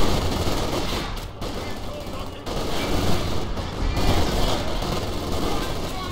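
MG42 machine gun firing in the video game Company of Heroes 2: continuous dense automatic fire and battle noise, loud and steady for the whole stretch with brief dips between bursts.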